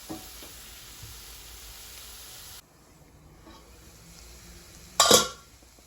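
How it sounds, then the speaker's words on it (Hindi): A spoon stirs mango pickle cooking in a pan, with a steady low sizzle throughout and one sharp metallic scrape near the end, close by and without talk. "अब बीच बीच में इसको इस तरह हिलाते रहिएगा ताकि वो चिपक ना जाए"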